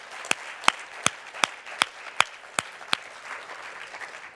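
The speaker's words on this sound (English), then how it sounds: "How about another round of applause for that?" A few people at a charity gala for breast cancer research clap in sparse, separate beats, about eight distinct claps spaced roughly evenly before they fade into room murmur.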